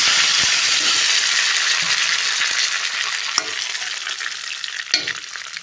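Boiled moong dal hits hot oil tempered with spices, setting off a loud, steady sizzle with stirring scrapes and a couple of sharp clinks of the spoon against the pan, close up.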